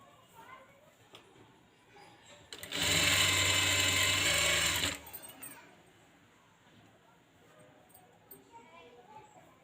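Sewing machine stitching folded puff sleeve fabric for a blouse, a single close burst of rapid mechanical whirring lasting about two seconds between quiet handling noises.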